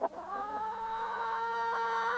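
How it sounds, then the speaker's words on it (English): A hen clucks steadily and close by, a drawn-out, throaty call with a sharp onset, heard alone without any talking. "H for hen, she clucks all day"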